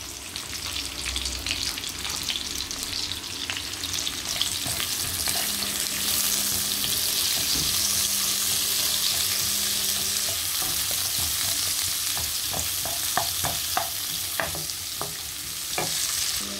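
One big chopped onion fries in a pan with a loud, steady sizzle, close up, with occasional stirring clatter from the utensil and no talking.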